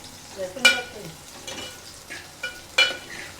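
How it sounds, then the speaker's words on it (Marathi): Garlic and onion fry in a pan, with a soft sizzle beneath a few sharp scraping stirs of a utensil, heard close up and without speech. "हा किती वेळ पोलटवायचा पोलटवायचा म्हणजे भाजायचा व सगळा कांदा लाल व्हायला पाहिजे"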